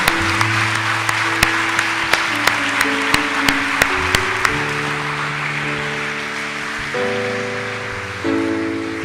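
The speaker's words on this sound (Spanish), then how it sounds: "¿Por qué no le damos un fuerte aplauso al Señor?" A church congregation claps strongly at a Spanish-language worship service, a broad wash of applause blended under sustained keyboard chords, with sharp clicks early on.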